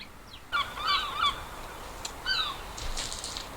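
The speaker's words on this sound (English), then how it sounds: "Seagulls are back in 2023, the bane of my life." Seagulls calling outdoors near a barn, several sharp squawks in short bursts at moderate distance over a low background rumble.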